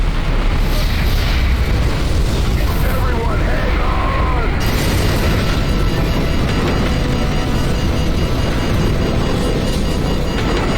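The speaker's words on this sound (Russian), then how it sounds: "И тут происходит взрыв" A loud, sustained explosion rumbles through a helicopter evacuation scene in Call of Duty: Modern Warfare, a dense roar of debris and blast noise that stays heavy throughout, with a voice talking over it.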